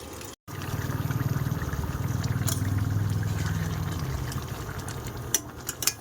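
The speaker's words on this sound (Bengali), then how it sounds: "যাই হোক, জল দিয়ে দিচ্ছি।" Water poured into a simmering meat curry in a pot, a steady low rushing pour that keeps going for several seconds and then gives way to a few faint clinks at the end, with no speech.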